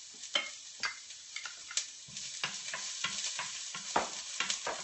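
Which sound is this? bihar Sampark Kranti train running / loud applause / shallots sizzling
shallots sizzling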